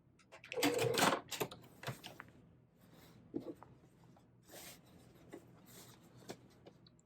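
A sewing machine stitches Ruby Sampler quilt pieces in one short, loud burst of rapid needle chatter, followed by scattered quieter clicks and fabric handling nearby.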